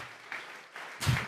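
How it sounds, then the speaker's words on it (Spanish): A church congregation claps in praise during a Spanish-language worship service, a brief, moderately quiet burst of applause that swells near the end. "Vamos a regalarle ofrenda de palmas al Dios de la gloria."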